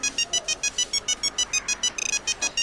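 A phone dialing beep sounds as a rapid series of about fifteen evenly spaced electronic tones, close and clear, with a quicker cluster of short beeps near the end.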